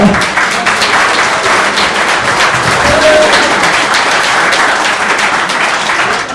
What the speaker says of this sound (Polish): Ogromne brawa dla Marcina.